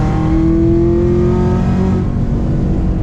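A car engine revs hard and climbs steadily in pitch as it accelerates, loud and close, with no talking.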